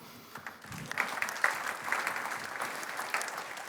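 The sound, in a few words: audience applause at awards ceremony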